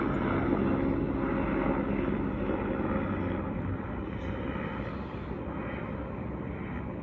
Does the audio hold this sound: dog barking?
no